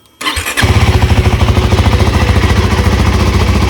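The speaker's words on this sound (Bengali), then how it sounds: "গাড়ি কোল্ড স্টার্ট দিয়ে দিয়েছি," A motorcycle engine cold-starts on a winter morning: a short crank, then it catches and settles into a loud, close, rapid idle thump that stays steady.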